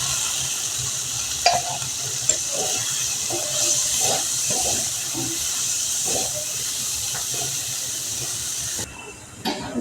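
Grated papaya hits hot oil in a pan with turmeric and salt, giving a steady, loud sizzle and hiss throughout, with occasional stirring clinks and scrapes, close and without talk.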